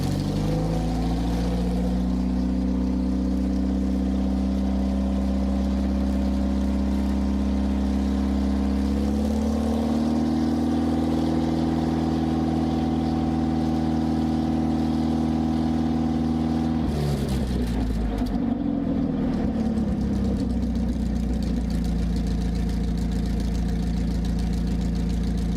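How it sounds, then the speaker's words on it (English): A 1,100 cubic inch WWII all-aluminum 60-degree V8 tank engine with dual overhead cams, 32 valves and twin carburetors runs on a test stand after overhaul. It gives a loud, steady idling growl, and its pitch shifts with revving twice. "During the test, the engine started smoothly and idled with a steady growl."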